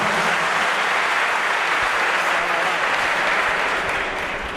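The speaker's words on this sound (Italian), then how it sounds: "Cominciamo con tutti questi applausi" Dense, steady applause from an audience of inmates at a prison in Naples, filling the whole stretch loudly and evenly before tapering slightly at the end.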